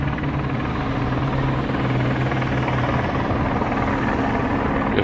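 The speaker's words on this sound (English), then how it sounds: "This helicopter's just hovering here," Steady, loud helicopter rotor drone holding at one spot just above the tree line, a continuous low throbbing hum with no break throughout.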